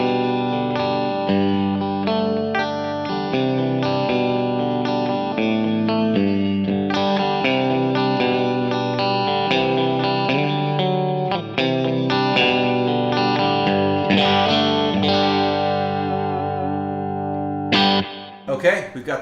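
Fender Stratocaster through a J Rockett .45 Caliber overdrive pedal with hall reverb into a Kemper blackface-style profile, a sustained, mildly driven guitar passage of chords and melodic lines, loud and continuous.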